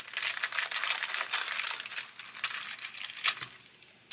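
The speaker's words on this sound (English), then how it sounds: "So let's get in there with a pair of scissors." Blunt scissors cut open the plastic bag of a USS Enterprise CV-6 model ship kit, giving close, crisp crinkling and rustling bursts that come in uneven waves, with a sharper snap near the end and no talking.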